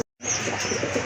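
Pigeons kept for sale, among them a female, coo close by; after a brief silent gap a steady, continuous call fills the rest of the second.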